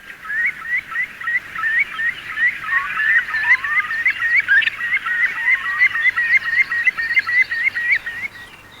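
A curlew calls during its courtship nesting display in Britain, a fast run of repeated bubbling notes that rises and carries on for several seconds, close and loud, with no talking.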